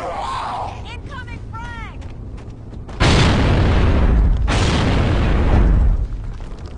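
Grenades exploding in Gears of War 3 during a tournament match, two loud booming blasts with long rumbling tails, preceded by whooshing sweeps and clicks, with a voice talking underneath.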